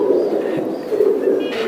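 A Teddy breed pigeon sitting on eggs coos softly and continuously at close range, a low rolling murmur with faint chirps from other birds in the background.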